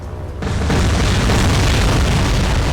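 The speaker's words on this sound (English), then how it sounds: "we've got a whole bunch of Mitchells coming in, dropping the bombs" Bombs dropped by Mitchell bombers in the War on the Sea naval video game explode in a sudden heavy blast that swells into a loud, sustained rumbling roar.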